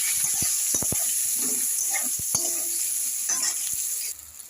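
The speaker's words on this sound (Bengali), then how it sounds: "এখন আমি বেগুনটাকে এইভাবে ভাজা করব।" Eggplant pieces rubbed with salt and turmeric fry in oil with a loud, continuous high sizzle and scattered pops and crackles, cutting off abruptly near the end.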